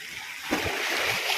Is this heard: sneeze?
no